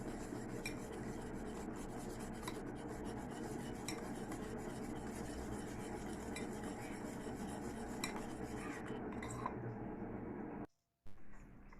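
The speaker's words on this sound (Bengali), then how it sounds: "এবার এটা খুব ভালোভাবে মিক্সড করে নিতে হবে, যেন কোনো লাম্পস চারিদিকে না থাকে।" A coffee powder mixture for an oven-free coffee cake is stirred by hand, producing a steady, close scraping and rubbing that runs continuously before cutting out briefly near the end.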